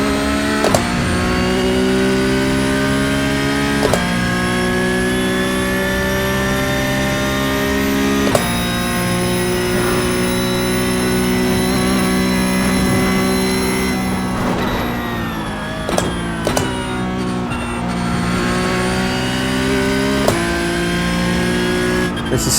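A race car engine roars in a VR racing sim game, loud and sustained with repeated sharp gear shifts and revving, the tone climbing and dropping as the sliding car is driven hard.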